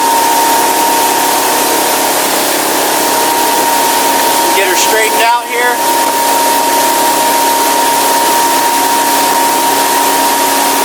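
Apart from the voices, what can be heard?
boat engine running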